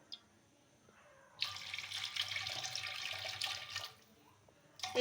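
Milk mixed with grated khoya is poured into a chicken dum biryani pot, a soft splashing pour that starts after a quiet pause, runs a few seconds, then briefly resumes.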